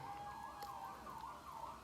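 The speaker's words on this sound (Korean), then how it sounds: "바깥에 경찰차가 이렇게 돌아다니는데" A police car siren wails outside, faint and distant, rising and falling in a steady cycle over low background noise.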